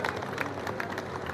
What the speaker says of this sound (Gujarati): મિત્રો આપણે જોરદાર તાળીઓથી વધાવીએ